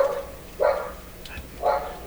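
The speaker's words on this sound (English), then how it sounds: "I'm just going to turn down the barking here" A dog in a repair shop barks twice, with about a second between the two sharp, moderately loud barks, heard alone over a quiet background hum.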